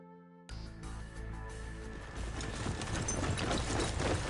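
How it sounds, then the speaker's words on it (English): Marching footsteps in the video game Granblue Fantasy, a steady rhythmic tramp of many feet that swells louder over a few seconds under a busy game soundtrack, with no talking. "Sound of marching footsteps gets louder."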